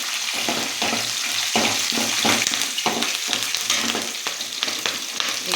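Mustard seeds, curry leaves and chillies fry in hot oil for an avalakki tempering, a loud continuous sizzle with rapid crackles and repeated stirring scrapes, close and busy, with no voices.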